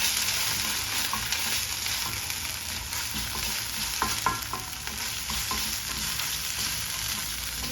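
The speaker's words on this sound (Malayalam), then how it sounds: "ഇതൊന്ന് നന്നായിട്ടൊന്ന് വഴറ്റാം" A paste of ground soaked dried red chili and garlic being sautéed in a pan for an aloo gobi dry curry, with a continuous loud sizzle and occasional spoon scrapes and taps, close, with no talking.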